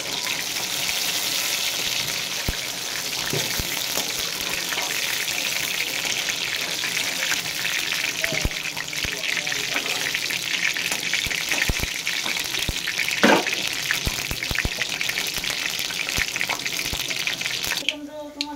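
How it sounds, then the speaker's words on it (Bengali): Bori lentil dumplings crackle in hot oil as a constant, close hiss of frying that runs unbroken, with occasional soft knocks from a spoon or pan. "বড়ি ভাজা, বড়িগুলো ভেজে নেবো।"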